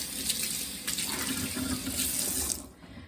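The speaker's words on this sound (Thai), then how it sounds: "เพื่อนๆล้างมือแป๊บนะ" A kitchen tap runs into a sink while hands are washed, a close, steady gush of water with splashy variation before it cuts off near the end; nobody speaks.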